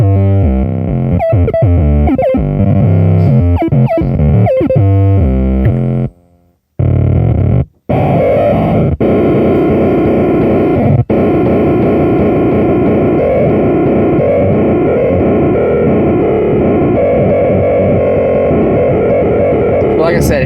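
A circuit-bent Danelectro Corned Beef distortion pedal spits loud glitchy noise: choppy stuttering bursts, abrupt dropouts, then a dense harsh buzzing wash that runs continuously.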